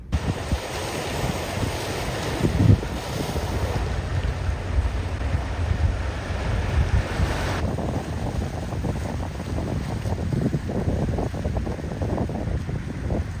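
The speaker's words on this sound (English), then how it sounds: "the weather is nice but very windy, so I'm staying in the car" Strong wind roars and buffets the microphone continuously, a rough, gusty rumble with no voices.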